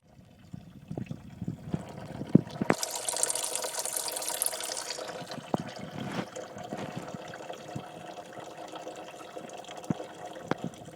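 Coolant drains from the radiator drain cock of a Toyota FJ Cruiser as a steady, fairly quiet splashing trickle of liquid, with a brief louder hissy gush early on and scattered small knocks.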